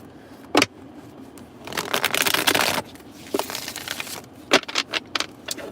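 Tarot cards are shuffled in quick bursts of riffling and flicking, a longer rustling stretch followed by several sharp, close card snaps with quiet pauses between.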